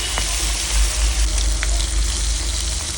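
Marinated hilsa fish pieces fry in a pan with onions, giving a loud, steady sizzle throughout with faint clicks of the pieces being turned.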